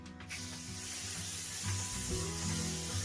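A steady aerosol spray of Sexy Hair Spray and Play hairspray hisses continuously onto hair for a few seconds, close and fairly loud, with a brief pause at the start.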